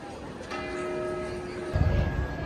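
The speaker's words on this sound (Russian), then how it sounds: "По-моему, каждый час здесь бьет в колокол." Automatic bell of St Mark's Basilica in Venice striking, a sustained ringing tone with steady partials under outdoor city ambience, joined by louder low rumble near the end.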